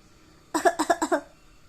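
A burst of about five quick, close coughs in a row, then silence.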